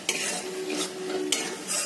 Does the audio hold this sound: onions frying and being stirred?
yes